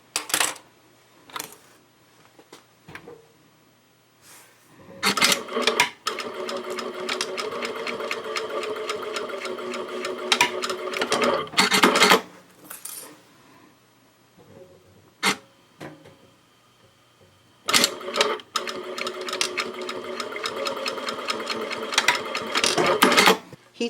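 A domestic sewing machine stitches and backstitches fabric for a small tissue case in several bursts of rapid mechanical whirring, each a few seconds long, separated by quiet pauses with faint handling clicks and rustles.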